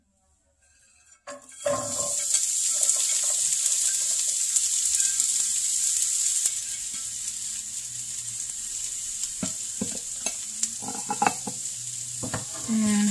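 Fresh vegetables hit a warm pan in one sudden dump and break into a loud, steady sizzle, with occasional stirring clinks and scrapes of a utensil in the pan over the frying.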